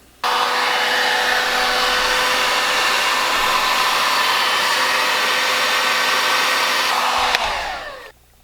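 A heat gun blows a loud, continuous roaring whoosh at close range while shrinking heat shrink tubing over an Anderson plug wire for a 48V server battery, running steadily for several seconds before cutting off and winding down.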